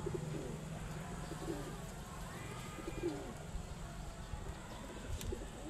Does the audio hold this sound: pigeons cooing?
yes